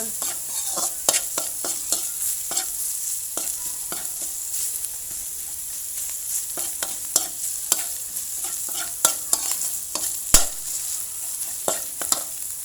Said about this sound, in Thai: หอมมาจ้ะหอมหอมหอมกระเทียมเจียวกับหมูผัดด้วยกัน ผัดให้หมูสุกได้จ้ะเด้อ